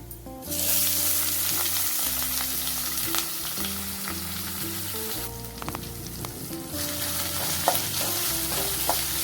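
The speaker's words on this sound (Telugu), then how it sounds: "ఆనియన్, పచ్చిమిర్చి ఎక్కువ వేసుకోవాలి స్పైసీ కోసం" Onions and green chilies frying in hot oil, a loud continuous sizzle with occasional stirring scrapes, heard alongside steady background music.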